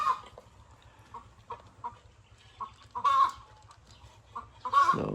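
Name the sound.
chicken clucking on a farm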